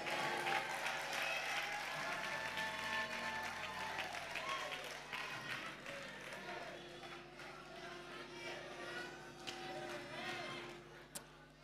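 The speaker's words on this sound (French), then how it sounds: "Continuez à applaudir pour elle." An audience applauds a contestant at the grand final of the Miss RDCongo pageant. The sustained, dense clapping runs the whole time beneath a host's voice speaking.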